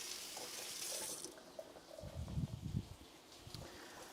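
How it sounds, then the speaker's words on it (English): Kitchen tap running into a sink while hands are washed, a soft steady water hiss with a brief louder splashing burst partway through, quiet and close. "Wash my hands."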